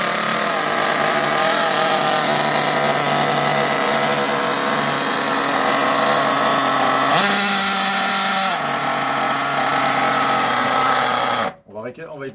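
A small petrol engine runs steadily at a constant buzzing idle under talk, then is switched off near the end, leaving sudden quiet.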